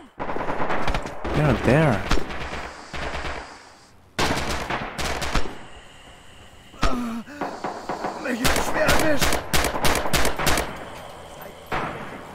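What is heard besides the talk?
machine gun fire in video game Red Orchestra 2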